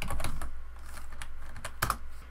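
Quick keystrokes tap on a computer keyboard, close and fairly soft, in an uneven run of clicks with a slightly louder burst near the end.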